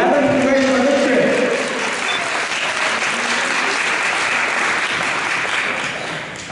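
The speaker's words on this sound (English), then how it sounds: "a round of applause for Mango for running for the 11th congressional district" Applause for a congressional candidate at a campaign launch party, a loud crowd clapping steadily throughout, fading slightly toward the end.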